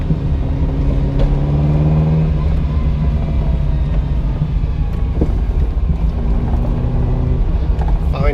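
Engine of a Ferrari Enzo replica driving on a road, its note rising and dropping as it bogs down through a right-hand turn, loud and continuous with wind buffeting the microphone.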